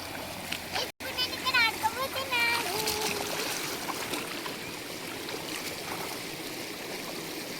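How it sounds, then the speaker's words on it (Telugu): Water in a flowing stream rushes and splashes steadily close by, a continuous wash under people talking, including a voice. "మళ్ళీ ఇప్పుడు వస్తున్నాయి నీళ్ళు"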